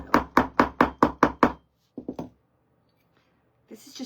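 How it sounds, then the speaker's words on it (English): A metal mini tart pan is hammered flat with seven quick, evenly spaced sharp knocks, then a short pause and three lighter taps, close and clear in an otherwise quiet room. "Let me hammer that down so I don't cut myself."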